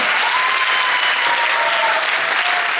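Loud, dense applause from an audience welcoming a product at an Ayurvedic health product presentation, a continuous wall of clapping with a faint tonal hum running beneath it.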